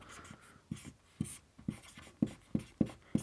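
Chalk or marker strokes on a classroom board tap and scrape in a quick, uneven rhythm of short distinct hits, close and clear with no voices over them.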